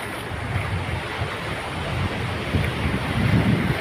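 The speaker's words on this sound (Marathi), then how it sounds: "बघा लाटा कशा येतात बघा" Sea waves roll in at a beach shore, a steady wash of surf with low rumbling swells and wind buffeting the microphone, building slightly louder toward the end.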